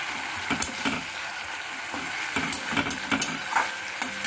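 Mung dal mixed with coconut paste in a pan, a faint sizzle broken by a run of quick spoon scrapes and clinks against the metal, close up with no voices.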